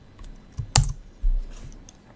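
A few quick keystrokes on a computer keyboard, close and distinct, with one sharper key press in the middle over a low background hum.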